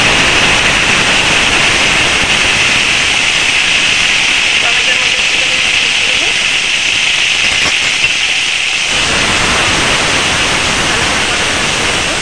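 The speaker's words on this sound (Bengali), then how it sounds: "মাছ ভাজা গরম তেলের মধ্যে ফোড়ন দিয়ে দেবো কালো জিরে" Nigella seeds sizzle and crackle as they temper in hot oil for a Bengali chela fish curry, a loud, continuous frying hiss that fills the scene, briefly dipping near the end before resuming.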